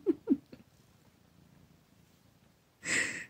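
A pet cat gives a few short soft chirping mews close by, then a quiet stretch with faint breathy purring, and ends with a brief louder breathy burst.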